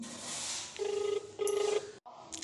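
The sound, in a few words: phone ringing during an outgoing call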